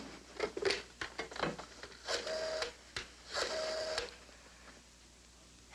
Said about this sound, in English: So, pick up that phone and dial Beachview 23598.